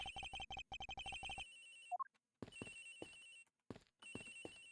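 A cell phone rings in the Ace Attorney Investigations video game, a quick burst of repeated electronic trill pulses followed by short tonal game chimes and blips, clear and alone with no talk.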